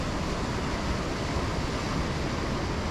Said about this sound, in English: there's where the water pours in to Lake Superior, where the river and Lake Superior meet